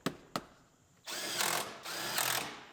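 Power tool driving the bolts of a new airbag into a Pontiac Grand Am GT dashboard: two short taps, then two sustained whirring bursts close by, with no talking.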